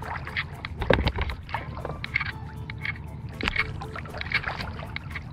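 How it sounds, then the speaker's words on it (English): Kayak paddled against an incoming tide past a buoy, with close splashing strokes and water sloshing against the hull under wind buffeting the microphone. "I'm paddling about 3 miles an hour."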